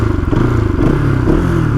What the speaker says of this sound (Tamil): அந்த ஐடியலில் இருக்கப்போ அந்த சவுண்டு கேட்குறதெல்லாம் கொடுப்பனன்ற மாதிரி.